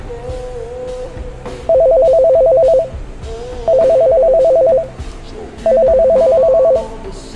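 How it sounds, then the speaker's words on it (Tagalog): A mobile phone rings with an incoming call, three loud electronic ring bursts about a second each with short pauses between, over a quiet indoor background with faint voices. "May tumatawag po kasi."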